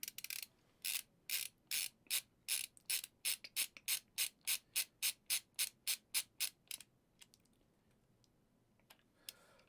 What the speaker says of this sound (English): 2 more of these screws to go. 2 more on my screwdriver again.